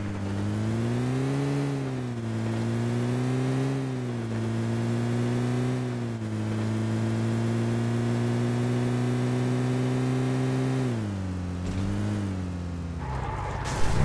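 A car engine drones and revs steadily in PUBG Mobile, its pitch rising and falling in several swells as the vehicle drives, loud and continuous with no talking until a brief burst of noise at the end.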